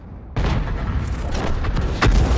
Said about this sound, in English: Direct hit, wipes him out. It must have landed right in the cockpit. Killed everybody on board, blew the thing up.